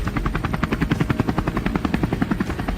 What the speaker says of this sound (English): We board the helicopter and touch down on the vast plains below.